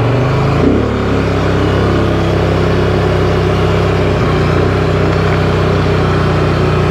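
A vehicle engine starts and runs with a loud, steady drone that holds level while it is driven off, with no voices.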